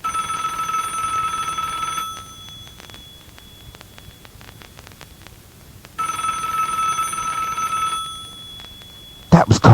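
An incoming call rings on a radio show telephone, two long electronic ring bursts separated by a quiet gap, loud and close, with a voice starting right at the end.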